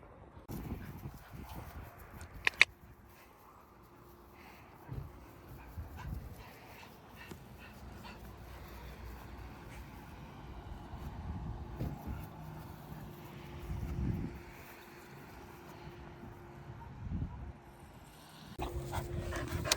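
A rescued shelter dog, a corgi and wiener dog mix, pants and whimpers softly in a quiet room, with a few sharp knocks and low rustling in the background.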